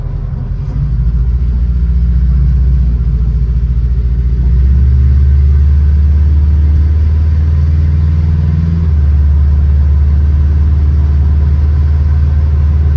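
A VW bus fitted with a Subaru 4EAT gearbox drives along, a loud, steady low rumble of engine and road noise heard from inside, with the pitch shifting slightly as speed changes.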